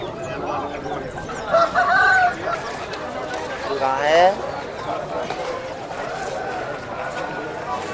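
At a busy market, roosters and hens cluck among the crowd, and one rooster gives a short crow partway through, all beneath steady nearby talking.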